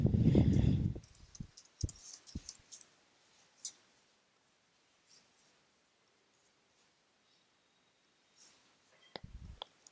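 A computer mouse gives a few sparse, faint, close clicks in a quiet room during work in interior design quotation software, with a short rustle of handling at the start and end.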